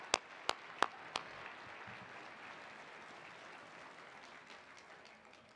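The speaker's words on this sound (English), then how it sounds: "Let's give all of these conservation leaders a round of applause." Scattered loud claps open a steady round of applause from a seated luncheon audience honoring conservation leaders at an annual meeting, the sound settling into an even, moderate wash that continues without talk.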